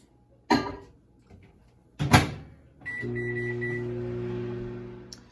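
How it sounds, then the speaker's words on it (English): A couple of soft clunks, like a microwave door shutting, then a steady low microwave oven hum with a few high beeps near the start of the run. "I'm just going to pop this in the microwave for, I think, 4 minutes"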